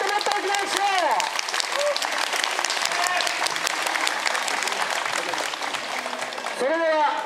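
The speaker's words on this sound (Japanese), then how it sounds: "もっともっと大きな拍手を。" A street performance crowd at an outdoor festival breaks into sustained, energetic applause while a performer's amplified voice rises and falls over the clapping.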